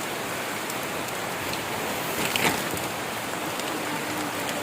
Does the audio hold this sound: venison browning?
no